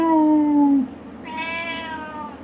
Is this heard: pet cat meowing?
yes